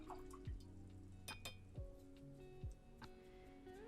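A paintbrush rinsed in a cup of water while painting a winter gnome card: soft close drips, small swishes and a few light clinks against the container, very quiet and without talk.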